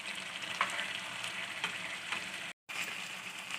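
Pieces of fish for a fish curry sizzle steadily in a pan with hot oil, a close and continuous frying hiss with a few louder crackles and a brief dropout near the end; no one speaks.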